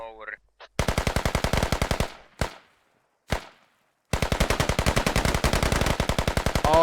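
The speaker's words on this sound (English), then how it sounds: "Amazing shooting here by Bennett." Rapid automatic gunfire from a multiplayer shooter video game skirmish: two long sustained machine-gun bursts with a couple of single loud shots between them, close and dominant with no talk.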